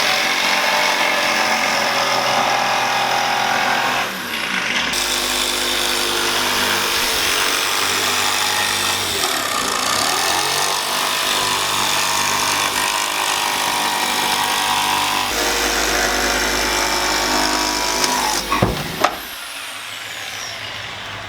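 Power tool cutting plywood on a teardrop camper frame, a loud continuous buzzing whine that runs for the whole stretch with shifts in load and pitch, ending in a brief clatter and then quiet.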